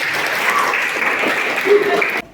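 A classroom of students applauds together in a lively burst of clapping mixed with a few voices, which then cuts off abruptly.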